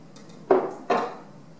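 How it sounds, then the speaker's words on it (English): A knife cuts through heirloom tomatoes onto a cutting board, giving two close, distinct thuds about half a second apart, with no voices. "Next I'm just gonna slice up the tomatoes."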